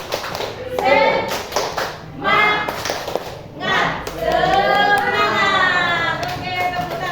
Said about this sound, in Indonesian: Sekarang tepuk semangat dulu.